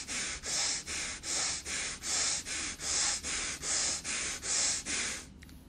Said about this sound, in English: Pumping inhales and exhales.